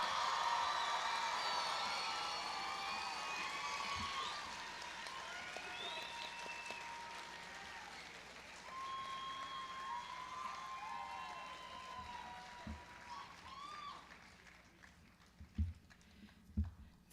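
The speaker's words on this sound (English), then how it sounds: "give one more round of applause to your nurse graduates" Applause for nurse graduates at a college pinning ceremony, a broad wash of clapping from a seated crowd that gradually thins and trails off into scattered claps and room noise.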